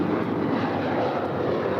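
A six-year-old Alaska Airlines Boeing 737-900ER departs LAX, its jet engines a steady broad roar at constant loudness, heard fairly close with no break.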